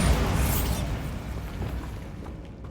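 Bombarda spell explosion in the Hogwarts Legacy video game, a loud heavy boom at the start with rumbling debris that slowly decays into quieter crumbling.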